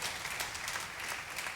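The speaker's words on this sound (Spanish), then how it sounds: "Démosle un aplauso a nuestros hermanos del Ministerio de Alabanza" A church congregation applauds its worship ministry in a short, even round of clapping from many people, moderately distant and fairly soft.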